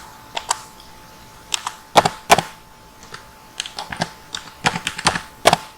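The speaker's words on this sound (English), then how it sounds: "like this you can type, and after that just click enter" Keys clatter on a computer keyboard as data is typed into a database table, irregular bursts of sharp clicks with short pauses, close and alone.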